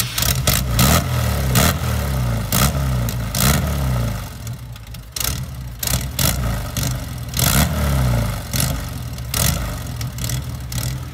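A twin-turbo car engine starts, then rumbles and revs repeatedly, loud and close, with bursts of throttle rising and falling over a steady idle.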